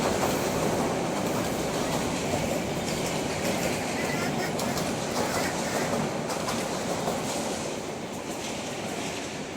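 A passing train rolls by with a loud, continuous rumble and a rhythmic clickety-clack of wheels on rails that stays strong for about ten seconds before easing slightly.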